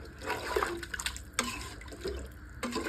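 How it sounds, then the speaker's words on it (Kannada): Water is poured into a cooking pot for mutton pulao, a soft, continuous splashing and trickling heard fairly faint and close by. "ಇವಾಗ ಇದಕ್ಕೆ ನಾಲ್ಕು ಗ್ಲಾಸ್ ನೀರು ಹಾಕಿದ್ದೀವಿ"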